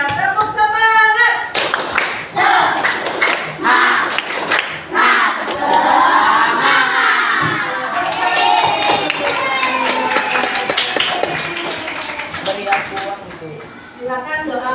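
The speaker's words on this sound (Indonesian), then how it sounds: "Kita tepuk semangat." A group of children at a gathering claps and cheers in a spirited rhythmic chant, sharp unison claps mixed with shouted voices, loud and close, with a short pause near the end before clapping resumes.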